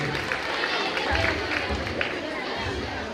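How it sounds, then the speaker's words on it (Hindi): A crowd at a school annual function applauds young children dressed as Charlie Chaplin, giving steady, dense clapping throughout, mixed with crowd chatter and voices. "जोरदार तालियां इन नन्हे मुन्ने चार्ली चैपलिन के लिए।"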